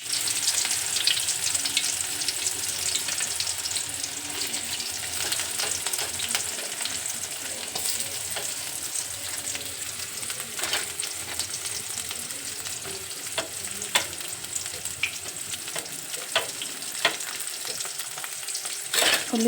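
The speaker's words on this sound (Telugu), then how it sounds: "ఇప్పుడు ఇందులో బాగా వేడైన తర్వాత దీంట్లోకి ఉల్లిపాయలు వేసుకున్నాను" Chopped onions frying in hot oil and ghee in a kadai give a steady, bright sizzle throughout, broken by occasional stirring scrapes and small pops, with no voices.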